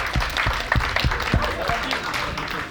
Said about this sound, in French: Verdun, vous pouvez quand même applaudir.